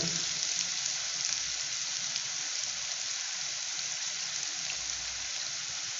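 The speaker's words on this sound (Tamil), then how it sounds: "இது நல்லா வதங்கட்டும் வெங்காயம் வதங்கிட்டு நம்ம கொஞ்சம் வெயிட் பண்ணுவோம்" Onions softening in hot oil for a village-style brinjal and black-eyed pea thokku give a steady, rain-like sizzling hiss, moderately loud and even from start to finish with no other sounds.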